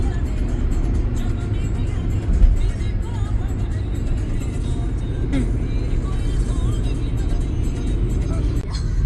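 Car travelling on Expressway 152D in India, a steady engine and road rumble continuing throughout at close range with a brief bump partway through, while people talk over it.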